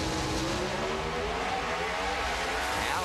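Mopar drag racing car launching off the start line at a Mile High elimination round, a loud, sustained roaring engine scream with rising pitch, close and continuous throughout.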